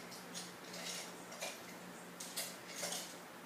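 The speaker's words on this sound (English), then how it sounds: "we'll get another little spoon here." Metal utensils clink and rattle in a kitchen as a small spoon is picked out from among them, giving a few faint, sharp taps spaced irregularly with no talk over them.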